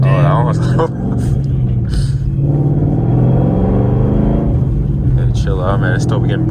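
A car fitted with a stage 4 puck clutch pulls away and accelerates through second and third gear, a loud engine rumble rising and dropping at the shifts, with people talking over it inside the cabin.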